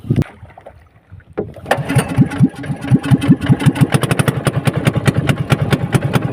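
A fishing boat's engine cranks after a quiet pause, then catches and settles into a loud, rapid chugging beat that runs steadily to the end, with no talk over it.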